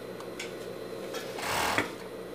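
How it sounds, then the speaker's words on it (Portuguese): An overlock sewing machine stitching the shoulder seams of a fleece pet sweatshirt, a quiet steady whir that swells briefly near the end, heard alone without talk. "E vamos costurar na nossa overlock. Costura um lado. Costura o outro lado do ombro."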